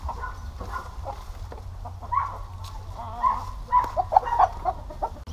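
Giant Indio chickens cluck and squawk in short bursts over a steady low rumble, getting busier toward the end, with a few faint voices in the background.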